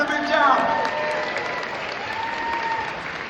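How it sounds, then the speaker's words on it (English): A gala crowd claps in a steady wash of applause, loud at first and easing slightly, while a voice talks over the clapping. "Let's give them another round of applause as we're going to move down."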